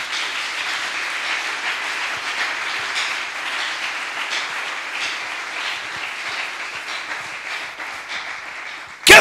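A church congregation applauds in steady, dense clapping that holds evenly for about nine seconds, with no voices over it.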